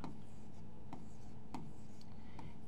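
The date is written on a board in quick, close strokes, with light taps and scratches repeating every half second or so over a steady background hiss.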